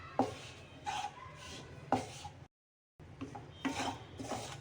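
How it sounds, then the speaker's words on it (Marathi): A spatula scrapes and stirs bajra (pearl millet) flour roasting in a pan in repeated close rubbing strokes, broken by one brief silent gap. "सारखं उलटणीने असं फिरवत राहायचं आहे पीठ करपायलाही नको"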